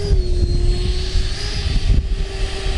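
FMS Futura 80mm electric ducted-fan RC jet on a 6S battery flying overhead, a loud sustained high-pitched whine with a steady tonal scream that shifts slightly in pitch as it passes.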